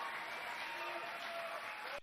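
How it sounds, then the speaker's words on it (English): A room of trained Navy SEALs claps in a continuous, dense patter of applause, fairly faint and even, cutting off abruptly near the end. "these fucking trained SEALs back here clapping at that"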